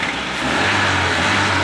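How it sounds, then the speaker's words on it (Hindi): A Daihatsu Move's engine runs steadily after an ECU water-damage repair, a close, even mechanical hum with no one speaking. "ये देखें गाड़ी स्टार्ट है"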